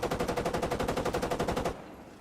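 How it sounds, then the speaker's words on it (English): Rapid burst of video-game machine-gun fire, about twenty evenly spaced loud shots in a steady rhythm, then abruptly stopping and leaving a low hum. "Someone's shooting at us."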